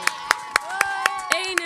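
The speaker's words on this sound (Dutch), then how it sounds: "Echt applaus voor jullie zelf gewoon nog een keer." Rhythmic clapping from a group of schoolchildren at a charity event, about seven evenly spaced claps, with voices and tones sounding alongside.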